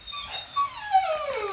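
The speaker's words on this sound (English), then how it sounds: "This dog." A dog whimpers close by with a thin, high whine that rises and then slides downward over about a second and a half, with no talk.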